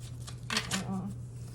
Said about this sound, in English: I'm going to shuffle again with another deck.